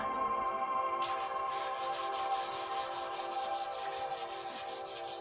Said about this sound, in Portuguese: ficou com uma camada um pouquinho mais alta, mas ele sai com a lixa